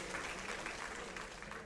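Audience in a college hall applauding, a brief, steady wash of many hands clapping at moderate distance, without talk over it.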